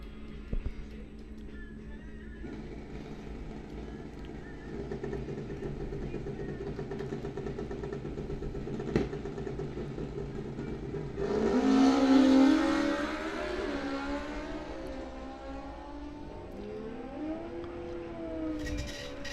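At Coles County Dragway, a Suzuki GS 1100 and a Kawasaki drag race in bracket racing: a droning engine tone builds, then a louder, rising motorcycle roar surges past around the middle and fades to a lower drone.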